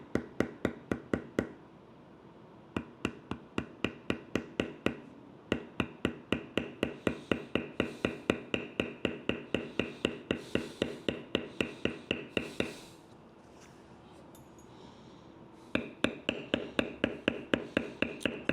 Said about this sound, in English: Now I'm going to go back and I'm going to tool or bevel around the tops of those scrolls.